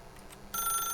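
A telephone in The Stanley Parable starts ringing partway through, a bright electronic trill that cuts in abruptly over a quiet room tone and continues steadily.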